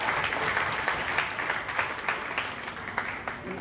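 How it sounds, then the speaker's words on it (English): An audience at an academy orientation gives a round of applause, a steady crowd of clapping hands at moderate volume, continuous with no gaps. "can we give a please big round of applause?"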